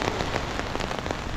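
Steady rain patters on a surface, with many small drops hitting close by in a dense, continuous hiss.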